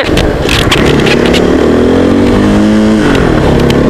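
A loud motorcycle with a straight-pipe exhaust revs up and holds, its deep raspy exhaust note rising and falling up close.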